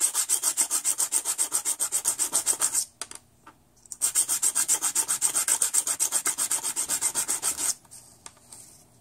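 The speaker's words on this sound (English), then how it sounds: "I am then going to take 2 of the nuts and rough up the opposite face as well." Fast, rhythmic rasping strokes as faces of square steel nuts are rubbed on sandpaper, loud and close, in two long bursts separated by a brief pause, then fading into quieter scraping.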